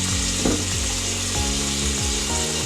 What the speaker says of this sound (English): So we just scrub and scrub and scrub.